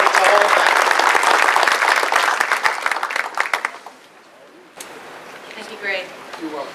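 Audience applause at an awards dinner, loud and dense at first, then tapering off over a few seconds into quieter room noise, with a voice briefly speaking near the end.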